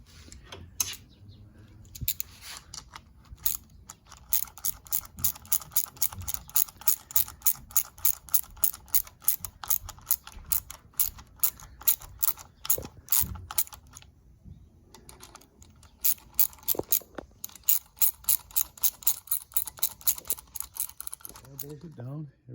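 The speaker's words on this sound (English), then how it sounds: "Just need to bolt it down." Ratchet tightening the lower unit bolts on a 1994 30 hp Mariner outboard, a long run of quick rhythmic close clicks in bursts with short pauses between strokes.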